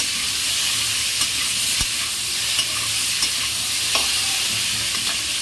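Spices and vegetables fry in a pan with a steady, close sizzle throughout, broken by a few soft clicks as the mixture is stirred.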